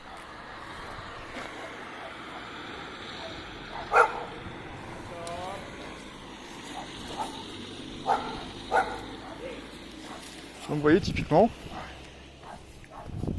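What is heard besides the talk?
dogs barking around the neighbourhood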